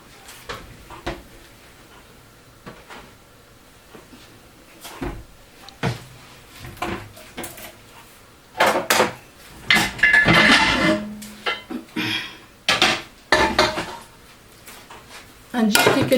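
A cocotte cooking pot being taken out and handled, with loud metallic clanks, knocks and scrapes of pots and lids in bursts, a cupboard or drawer sound among them and a voice speaking now and then.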